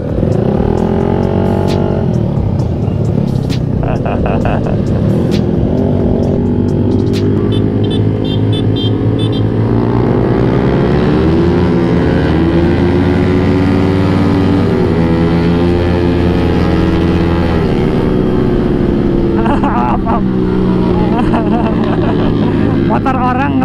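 A Honda Beat motorcycle revs and drones steadily along a bumpy road, the engine loud and close throughout, its pitch rising and falling with speed while riders talk over it.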